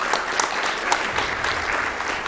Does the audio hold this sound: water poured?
no